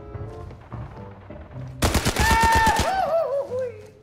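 Gunfire in the shooter game Arena Breakout, a sudden rapid burst of automatic shots after a quieter stretch, loud and close, followed by ringing synthetic tones as it fades.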